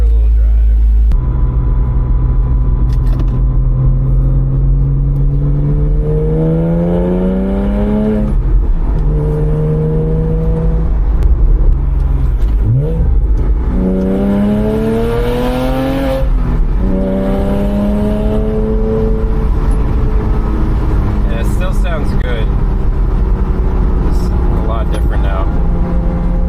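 Porsche 987.1 with a tuned, no longer raspy exhaust driving from inside the cabin, its engine note rising and falling through repeated gear changes over a steady road rumble, with occasional speech over it.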